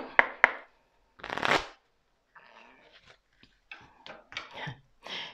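A deck of cards being shuffled and cut, a few sharp snaps followed by a brisk riffle, then scattered lighter card flicks and rustles in short bursts separated by silence, close by.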